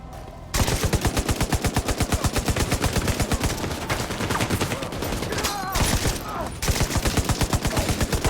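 Sustained automatic gunfire in The Division 2, the New York expansion, comes as dense rapid bursts of shots, loud and close, broken by two short pauses across about eight seconds.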